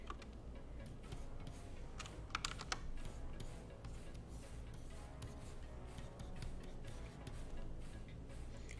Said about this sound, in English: So when he's actually really typing, he's got like a multi-plane keyboard.